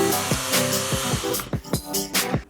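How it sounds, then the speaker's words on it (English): An electric sander works fibreglass filler on a Honda CB125 cafe racer rear seat hump, whirring in short repeated bursts and rhythmic passes that wind up and drop off, close and fairly loud. "Sander on."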